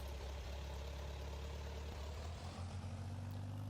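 A tractor engine in a Farming Simulator video game rumbles in a deep, steady idle throughout, close and continuous with a low droning hum and no talk.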